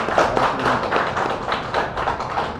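A short burst of dense, lively applause welcomes senior leader Bijay Ketan Swain at a Biju Janata Dal political gathering, many hands clapping close and steadily.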